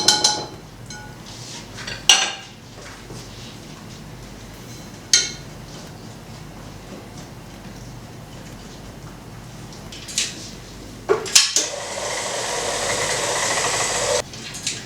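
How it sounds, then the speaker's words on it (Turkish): Two cake batter mixtures with cornstarch and flour are stirred together in a bowl. A utensil gives sharp, scattered clinks and clacks against the bowl, then a louder sustained scraping rush at the end. "Ben şimdi iki karışımı birbirine yediriyorum"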